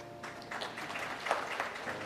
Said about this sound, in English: what are you clapping your hands for?